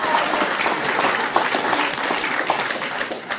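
Audience cheering and clapping in a meeting hall, a dense sustained wave of applause with a few voices calling out, loud and steady throughout.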